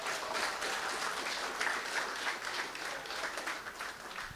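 Audience applause at a college graduation ceremony, a dense steady wash of clapping from a large crowd that carries on alone without pause.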